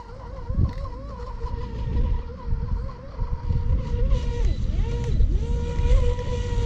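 A boat motor drones steadily over water, with wind buffeting the microphone and a rising, falling whine as the engine pitch shifts.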